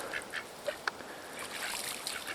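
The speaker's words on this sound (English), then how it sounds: "The ducks are having a blast." Ducks splash in a small swimming pool, giving a few soft, fairly faint quacks and honks over light watery splashing.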